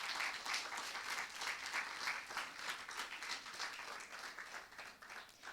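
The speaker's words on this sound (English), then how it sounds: "A round of applause, ladies and gentlemen." Audience applause fills a keyboard arangetram recital hall, a steady dense wash of many hands clapping at moderate volume, continuous and even throughout with no voices over it.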